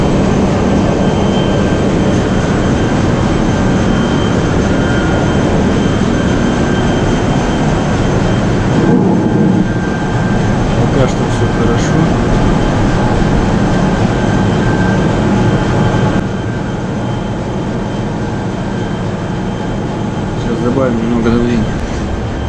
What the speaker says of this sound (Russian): теперь запускаем насос.